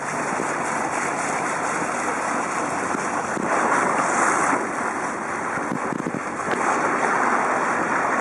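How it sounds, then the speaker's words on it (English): Steady wash of lake water against a boat hull at the bow, with wind noise buffeting the microphone, continuous and fairly loud, no voices. "You can hear the sound of the water."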